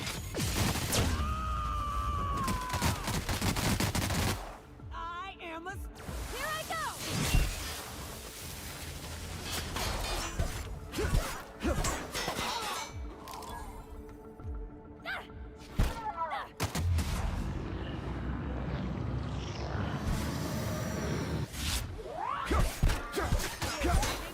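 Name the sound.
gunfire from the video game The Outer Worlds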